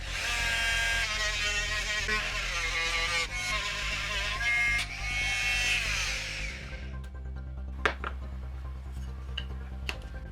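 A Bosch PMF 250 CES oscillating multi-tool cuts into wood with a steady, buzzy, close-up drone for about seven seconds, then stops, leaving a low background hum and a few sharp clicks.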